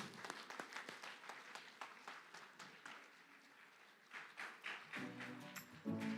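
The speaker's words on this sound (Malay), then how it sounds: "Berikan tepukan yang gemuruh buat MTDC." Audience applause at a business session event, a soft, fairly distant patter of many hands that fades, followed by music near the end.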